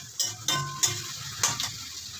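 Squash goes into a pan of sautéed tomato, garlic and onion for pakbet. It gives a steady sizzle broken by several sharp clinks and scrapes of a utensil stirring against the pan.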